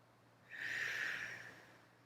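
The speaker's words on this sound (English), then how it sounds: "Take a deep breath." A single deep, breathy inhale or exhale rises and fades over about a second in a quiet yoga class, soft and close, with no talking.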